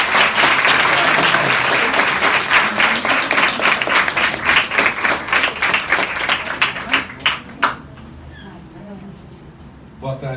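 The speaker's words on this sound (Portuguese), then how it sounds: "Uma salva de palmas novamente para o Sérgio Vaz." An audience at an afternoon poetry event applauds a poet, with dense clapping that thins into scattered individual claps before fading out near the end.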